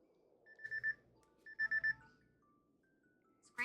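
A phone rings in the Stardew Valley video game: two short bursts of bright, warbling electronic ringing, clear and fairly quiet, then a brief different chime at the very end, with no voices.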